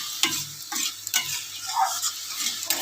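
Fresh wild mushrooms from the garden fry in a pan and are stirred, repeated scraping strokes of a spatula every half second or so over a steady sizzle, close and with no talk.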